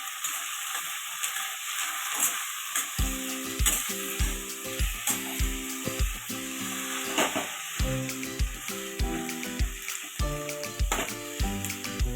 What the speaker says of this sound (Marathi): आता आपण ह्याच्यामध्ये कोथिंबीर टाकून घेणार आहोत कोथिंबीर टाकून चांगली परतून घेणार आहोत आपण